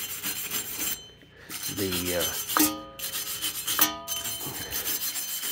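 A Dodge Charger's front center hub is scrubbed clean before a new rotor goes on, with harsh rasping and filing strokes repeating close by and a few ringing metallic squeals in between.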